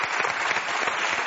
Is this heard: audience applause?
yes